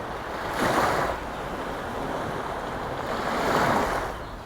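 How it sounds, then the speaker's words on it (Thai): Ocean waves break on the shore at Pranburi beach, Thailand, in two rushing surges, loud and close, with a constant wash of surf between them. "เสียงคลื่นที่กระทบฝั่งจะแตกต่างกันออกไปในแต่ละช่วงเวลา"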